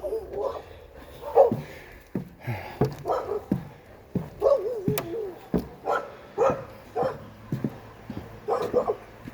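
Dogs bark repeatedly near a creek on a forest trail, sharp close barks in an irregular series mixed with whimpers, while people talk.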